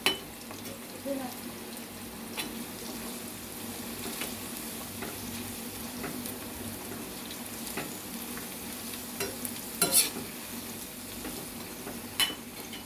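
Chicken pieces fry in a little oil on a low flame, giving a soft steady sizzle with occasional scrapes and taps of a spoon stirring in the pan.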